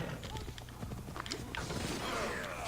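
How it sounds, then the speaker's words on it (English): A horse's hooves clip-clop in Assassin's Creed Odyssey, a quick run of near, rhythmic hoofbeats mixed with game ambience and a faint whinny. "I can summon the horse if I want"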